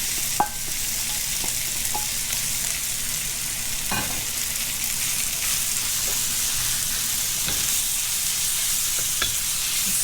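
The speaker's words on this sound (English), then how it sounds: "So what I'm gonna do is just cook this shrimp really fast." Shrimp coated in salt, white pepper and cornstarch stir-fries with asparagus over high heat, giving a strong continuous hiss and sizzle. Occasional clicks and scrapes of stirring come through, with no talking.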